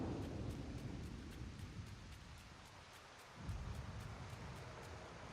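Steady rain and rumbling thunder in the Disney Dreamlight Valley video game, a continuous broadband wash with a brief dip in intensity midway before the downpour swells again, with no voices.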